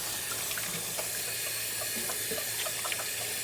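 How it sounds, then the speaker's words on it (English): Hands are washed under a running tap at an outdoor sink, a steady splashing stream of water at close range with small drips and splatters throughout and no talking. "so I'm going to clean my hands"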